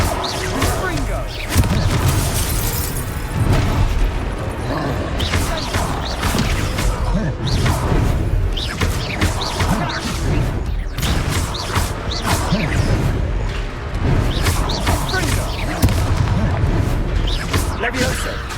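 Fiery Confringo spell blasts from the Hogwarts Legacy video game, booming impacts and whooshes repeating through a dense, loud combat mix with music and other game effects throughout.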